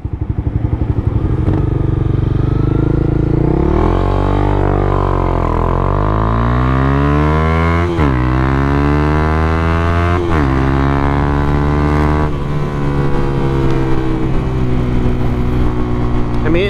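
A 2016 Honda CB300F motorcycle engine revs loud and close while riding through the city, pitch repeatedly climbing through the gears with brief dips at each shift.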